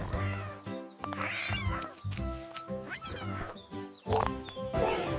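A cat meows several times in drawn-out, whiny calls, close and fairly clear, with a few louder yowls toward the end.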